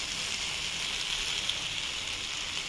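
Spices with turmeric and chili sautéing in a pan for a Bengali fish curry, a steady close sizzle hissing continuously without pause.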